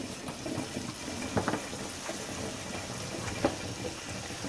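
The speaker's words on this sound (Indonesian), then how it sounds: "kita siram dengan air dingin supaya dia cepat dingin guys" Cold water poured over boiled soybeans to cool them, a steady splashing wash like a running tap into a bowl, fairly quiet and continuous with a few brief louder splashes.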